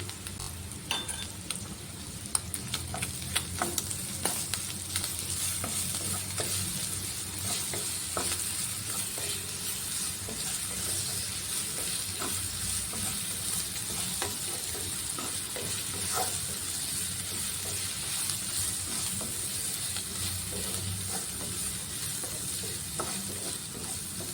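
Chicken fries in a pan with ginger, garlic and pepper paste, a long, steady sizzle and crackle close up, with repeated scraping stirs and occasional light clinks of a utensil against the pan, and no talking.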